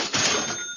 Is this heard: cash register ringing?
yes